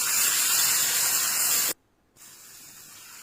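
Fish pieces frying in extra oil on a hot dosa griddle, a steady loud sizzling hiss that briefly drops out, then continues more quietly, with no talking.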